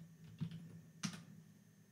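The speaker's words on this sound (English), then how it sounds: "Go ahead and type it in again." A few soft clicks of typing on a computer keyboard as a password is entered, two distinct key taps close by in a quiet room.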